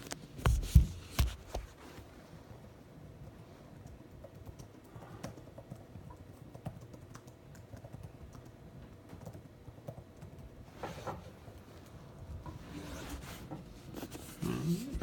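Keys tapping on a computer keyboard during a homework-help walkthrough, soft irregular clicks in short bursts with a couple of louder clacks, faint and close against low background hum.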